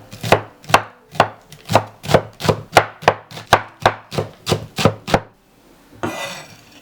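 Rapid knife chopping of greens on a board, about a dozen sharp even strokes in a steady rhythm, close and clear, then a brief rustle at the end.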